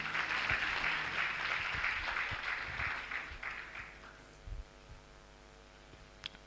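Ceremony audience applause at an anniversary and induction event, a dense wash of clapping from a sizable crowd that gradually thins and dies away after about four seconds, leaving a low steady room hum.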